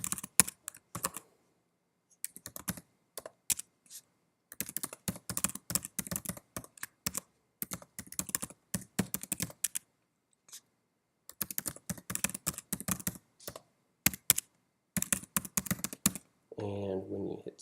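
Someone types on a computer keyboard while filling in form fields, with bursts of quick, close key clicks separated by short pauses and a brief voice near the end.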